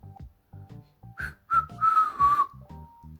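A person whistles a short, wavering tune in a few breathy bursts, up close and alone. Low plucked or tapped background music runs underneath the whistling throughout.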